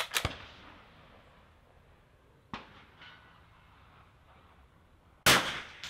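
Sharp metallic clangs of rifle bullets striking a steel target at an NRL22 rimfire match range, three distinct impacts spaced a few seconds apart, each a crisp ring that decays quickly into quiet ambience.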